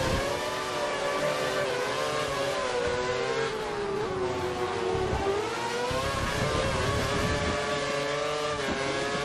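A Formula 1 race car engine in F1 2013 at Abu Dhabi, screaming at full revs with a steady high-pitched whine that rises and dips slightly with gear and throttle changes, loud and continuous with no talk.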